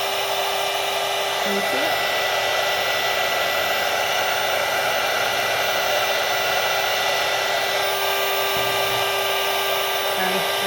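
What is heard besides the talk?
craft heat tool blowing hot air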